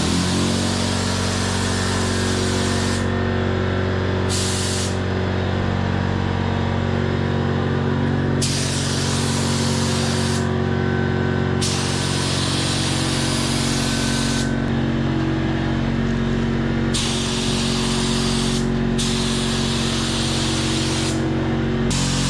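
A spray gun lays primer onto a Honda CRX Si hatch lid in loud, sustained bursts of several seconds each, separated by short pauses, over the steady hum of a compressor or fan in the shop.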